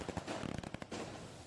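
Fireworks are set off at night in a celebration, a rapid run of crackling pops and bangs that come in bursts and then fade into a rumbling wash, heard at a moderate distance.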